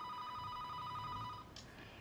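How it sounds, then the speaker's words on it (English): A telephone rings with a steady electronic trilling tone that repeats in rapid pulses for over a second, then stops, followed by a faint click in a quiet interior. "Your telephone is ringing."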